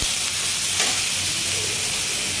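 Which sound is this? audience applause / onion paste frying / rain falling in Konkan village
onion paste frying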